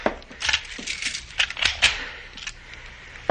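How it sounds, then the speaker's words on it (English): Keys jangle and clink against a door lock in a quick irregular burst of metallic rattles, close up, ending with a sharp final click. "I will lock it."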